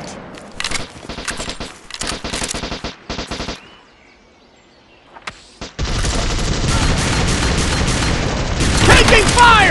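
Gunfire in the online FPS game Modern Strike Online: loud bursts of automatic fire come in quick clusters, pause briefly, then return as sustained, dense shooting close by.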